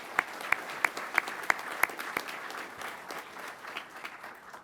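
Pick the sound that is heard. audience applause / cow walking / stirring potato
audience applause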